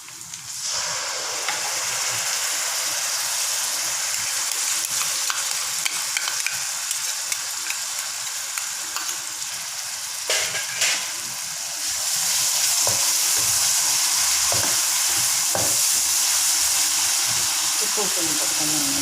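Raw jackfruit pieces stir-frying with a ground spice paste in a hot pan, a steady close sizzle with scraping stirs throughout, growing louder and hissier in the second half.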